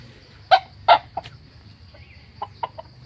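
A red Pradu Daeng fighting rooster gives a few sharp, close clucks in two quick bursts, then softer scattered clucks after a pause, over a faint low background hum.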